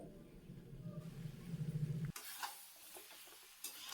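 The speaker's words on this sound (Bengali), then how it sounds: "দুই থেকে তিন মিনিট ভালো করে এটা কষিয়ে নেবো" Spice paste with water being stir-fried for a small-potato curry with peas, a low bubbling simmer giving way to soft close scrapes and stirring knocks, fairly quiet.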